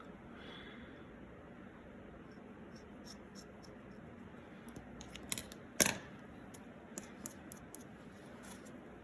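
Scissors snipping white yarn for a holiday gnome's beard, a cluster of small quick clicks and snips close by, with one louder cut in the middle, over a faint room hum.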